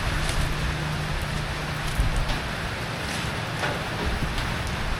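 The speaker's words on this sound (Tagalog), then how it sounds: "Tuloy ang ulan." Heavy, continuous rain pours down outdoors as a steady, dense hiss throughout, with a low rumbling wash beneath and a few faint knocks and splashes.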